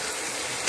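Spice masala with chili powder and ground coriander-cumin, plus green chili, ginger paste, eggs and potatoes, stir-fries in a pan, giving a steady soft sizzle and hiss that runs briefly and evenly.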